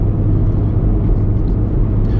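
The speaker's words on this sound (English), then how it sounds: "Probably the engine's gonna quiet itself down." A Hyundai Ioniq Hybrid's engine gives a steady, loud, low drone with road rumble on the highway, unchanging throughout with no voices.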